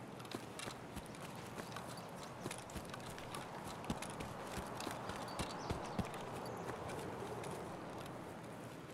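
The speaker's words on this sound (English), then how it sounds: "Another horse." Horse hooves clip-clop in a video game, a steady run of quiet, irregular clopping hoof strikes continuing throughout with no voices.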